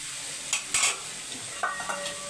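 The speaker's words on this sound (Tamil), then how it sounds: "இப்போ அப்படியே வதங்கட்டும்" Vegetables for a simple soya curry sauté in a pan with a soft steady sizzle, broken by a few clinking scrapes of a spoon stirring against the metal.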